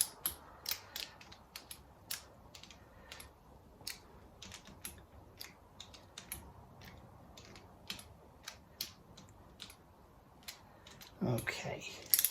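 Small M6 cylinder head bolts on a Lancia engine being tightened with a ratchet to about 10 lb-ft, squishing the head gasket: a steady run of quiet, close clicking ratchet strokes in short bursts, with a louder clatter near the end.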